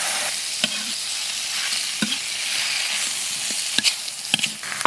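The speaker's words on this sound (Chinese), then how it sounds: "粉肠往软炒一会儿" Diced pork and starch sausage stir-fried in a pan with green onion, ginger, garlic, soybean paste and soy sauce: a steady close sizzle with scattered spatula scrapes and clicks against the pan.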